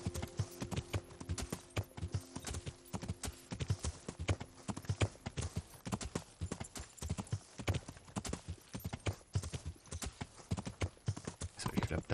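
Horse hoofbeats from riding in the medieval video game Kingdom Come: Deliverance, a steady rhythmic clip-clop of trotting hooves on a path, continuous and fairly close, with faint game ambience beneath.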